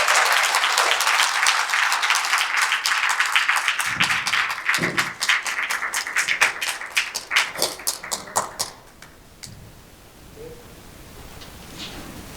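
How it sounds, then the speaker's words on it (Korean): Applause rises for an award at a Los Angeles peace and unification advisory council gathering, loud dense clapping that breaks into scattered individual claps and fades to a quiet room by the end. "큰 박수 부탁드리겠습니다."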